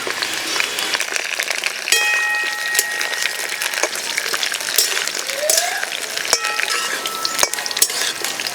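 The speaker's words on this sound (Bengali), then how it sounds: "আলু আর কফি একসঙ্গে ভেজে নেব।" Potato and cauliflower pieces frying together in a pan while being stirred, a steady sizzle with scraping and clinking of the spoon throughout, close and fairly loud.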